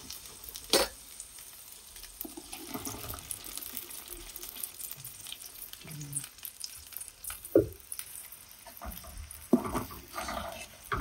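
Ground masala paste frying in sesame oil, a low steady sizzle with occasional scraping stirs and clinks of a spoon against the pan, quiet and close.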